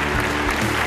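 Applause from an audience greeting Union Minister Maneka Gandhi at a launch event, a steady wash of clapping that fills the short moment at even loudness, with no speech over it.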